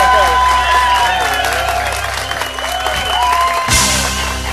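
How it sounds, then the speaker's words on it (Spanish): A TV studio audience applauds and cheers at the arrival of a guest on a Puerto Rican comedy show, a loud crowd roar with clapping mixed under music and other studio sound, ending in a sharp burst near the close. "Así que fuerte el aplauso para Aníbal."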